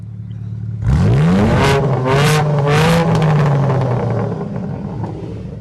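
A car engine at a hillclimb event revs hard right at the exhaust, a loud rising roar that holds with a couple of throttle blips, then settles back to a rumbling idle.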